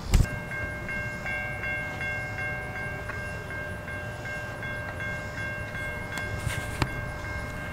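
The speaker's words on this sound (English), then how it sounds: "but there is a train coming" A grain train in Thomasville, North Carolina rumbles steadily at a moderate distance, with sustained horn-like tones sounding over the rolling noise and a few sharp clanks near the end.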